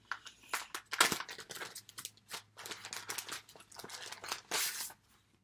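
Shiny paper packs crinkling and tearing open in quick succession, close and fairly loud, a dense run of crackling rustles with a brief pause near the middle.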